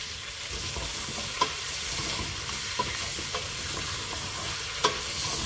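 Diced courgette and small potato frying in oil for Oran-style harira, a steady close sizzle with a few light stirring clicks and scrapes of a utensil in the pan.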